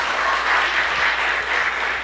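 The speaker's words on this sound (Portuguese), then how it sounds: "Uma salva de palmas por essa janta maravilhosa." Wedding guests give a steady round of applause at the bride's father's dinner celebration, dense clapping from many hands at close range, continuous and even throughout.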